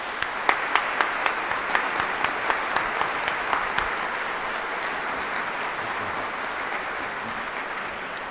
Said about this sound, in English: if I could ask you all for this incredibly generous and wonderful supporter of the arts to join me in a round of applause